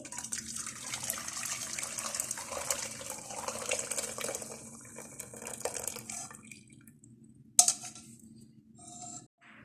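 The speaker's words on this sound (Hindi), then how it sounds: "कहवा तैयार होने के बाद एक दूसरे पैन में हम इसको छान लेंगे।" Brewed kahwa tea being strained into a second pan, a steady soft pouring and trickling of liquid that thins out and stops, followed by a sharp metallic clink near the end.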